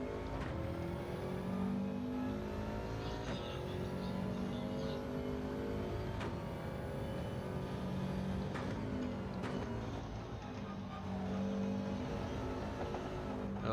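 Race car engines in Gran Turismo on a dirt course: a continuous loud engine roar that rises and falls with repeated gear changes, plus another car close by.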